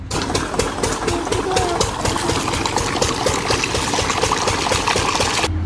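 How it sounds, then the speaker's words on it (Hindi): Diesel engine running a borewell pump that draws well water for farm irrigation, a loud steady rapid chugging with water splashing and trickling alongside, close by and continuous. "बोर है हमारा ही, तो बिजली से तो चलता नहीं है, डीजल से चलता है, इंजन है।"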